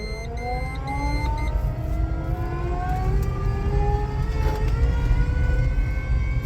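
Homemade electric car, built with an elevator motor, driving in reverse: a loud steady whine that slowly rises and falls in pitch, with a constant low rumble underneath.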